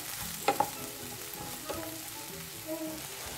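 Eggs and vegetables sautéing in a pan for egg chilli, a soft steady sizzle with a couple of sharp utensil clinks near the start and light stirring scrapes throughout, close and moderately quiet.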